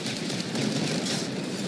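Turret gunfire in the vehicle combat game Crossout comes as a dense, steady rattle of rapid shots under a loud rumbling mix, continuous with no pauses and no voices.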